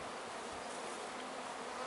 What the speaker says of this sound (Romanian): în câteva minute albinele ar trebui să treacă de pe creangă pe rame